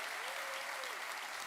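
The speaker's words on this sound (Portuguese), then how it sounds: "esse aplauso mesmo é para ele, que ele merece" A church congregation applauds during a Portuguese-language worship service: steady, dense clapping fills the whole stretch at an even level, with a faint sustained tone running beneath it.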